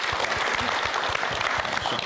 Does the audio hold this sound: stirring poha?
no